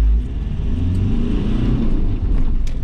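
A remapped Land Rover Defender engine accelerating on a drive, a low, throaty rumble that builds steadily over a few seconds, heard close from inside the vehicle with no talk.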